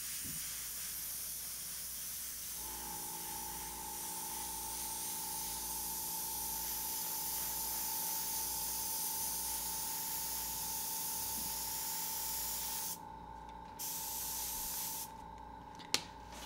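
An airbrush sprays paint over a stencil on a zombie-themed painting, a soft steady hiss with a faint constant tone that runs for most of the stretch and breaks off in short gaps toward the end.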